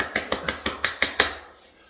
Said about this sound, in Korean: 자, 우리 친구들 박수 한번 쳐볼까요?